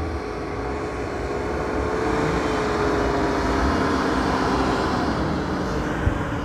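A Land Cruiser with a manual gearbox roars steadily as it climbs a sand dune, its engine noise building slightly and staying strong throughout with no talking.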